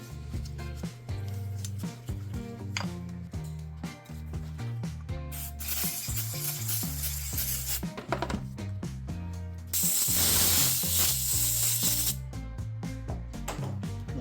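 Bursts of brake cleaner hiss from an aerosol can onto a Husqvarna chainsaw during a throttle repair: two broad, steady sprays of a few seconds each, close and fairly loud over a continuous musical background.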